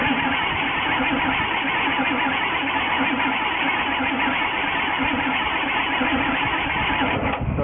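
A 1973 Jeep Wagoneer engine cranks and fires, holding a continuous, loud, rough mechanical roar close by for several seconds, with no talking.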